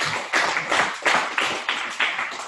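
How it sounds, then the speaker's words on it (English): A small group at a sales team meeting gives a round of applause, close and loud, with claps bunching into distinct rhythmic bursts about every third of a second, no talk over it. "Give them all a round of applause"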